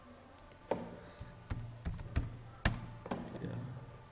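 Python code using numpy is typed on a computer keyboard: irregular, close-up key taps and clacks come in small bursts with short pauses between them.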